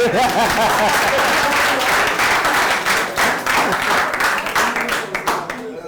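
Conference audience in a hall breaking into applause, dense rapid clapping that stays loud for several seconds then thins and fades, with some voices mixed in.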